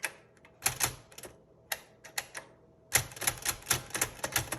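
Mechanical clacks from a 1957 Voss typewriter as its margin release is worked, a run of sharp close clicks and snaps, a few spaced at first and then a dense burst of rapid strikes.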